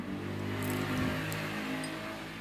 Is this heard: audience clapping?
no